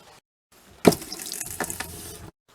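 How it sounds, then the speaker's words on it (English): Antifreeze gushes from an opened tap in an off-grid RV being winterized, a close splashing rush that starts abruptly, runs for about a second and a half and stops, with no talk. "I'm just gonna open up one of the taps again and let that go through the line"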